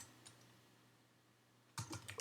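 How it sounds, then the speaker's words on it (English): Typing on a computer keyboard, a burst of quick keystrokes arriving near the end after a quiet stretch with a faint early click, close and fairly loud. "I'm just typing stuff for the sake of typing."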